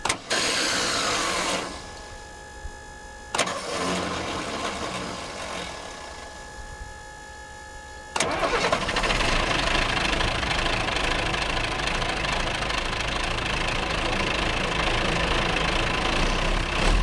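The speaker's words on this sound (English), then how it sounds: "So all I'm gonna do is start the engine and pump the brakes." An old truck engine cranks and catches, then settles into a steady, rough idle with a faint knock running through it. The motor sounds loud and close, and the idle holds for most of the stretch.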